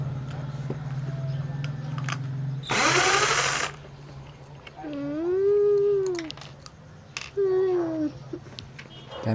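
A power drill gives a brief loud burst as it drives screws while accessories are fixed to a mini solar setup, with other voices and background noise around it.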